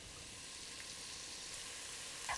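Two sliced onions hit hot coconut oil in a pan for a beef curry, giving a faint, steady sizzle throughout that ends in a brief, sharp clatter.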